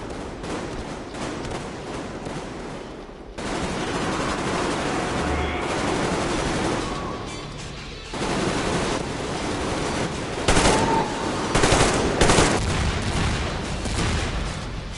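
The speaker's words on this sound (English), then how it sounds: "That literally just sounds like a full auto shotgun just going bang," Rapid full-auto shotgun blasts in Metro Exodus, loud, dense and close, pounding almost continuously through the whole stretch with brief gaps between bursts.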